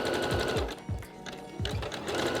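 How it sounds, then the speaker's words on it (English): A sewing machine zigzag-stitches down the middle of elastic for a bra, running in short bursts with brief pauses, close and fairly loud with no talk. "I'm just going to zigzag straight down the middle of the elastic, starting with a little back stitch."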